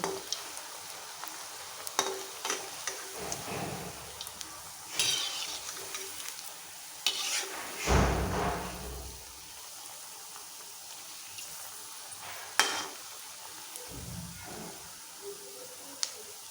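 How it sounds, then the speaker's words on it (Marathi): Vada fritters fry in hot oil over a medium flame, giving a steady close sizzle broken by occasional stirring clatters and spatter bursts, with no talking. "मध्यम गॅसवरती तळायला घ्यायची म्हणजे एकसारखे भाजले जातात वडे असे लाल होईपर्यंत तळून घ्यायचे"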